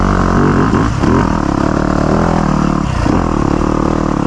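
A brand-new 2025 Yamaha YZ250F dirt bike engine drones loud and close while riding, with a steady revving buzz, brief dips as gears change and a faint clatter, no talk.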